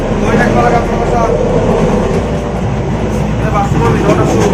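A moving passenger train bound for Dibrugarh, heard from inside its cramped bathroom: a loud, steady rumble with rattling and clicks, while a voice talks over it.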